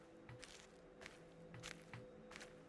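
Footsteps in the video game The Witness: a quick series of crisp, gritty steps at a steady walking pace, close and clearly audible over a low background hum.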